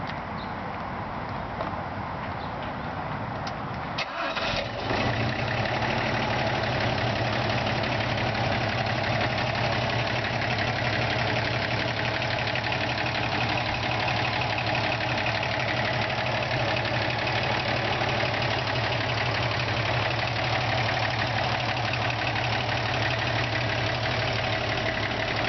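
A 1973 Toyota FJ55 Land Cruiser with a new alternator cranks and catches at about four seconds, then settles into a steady, loud, close idle with a deep low rumble and faint knocking texture that continues unbroken.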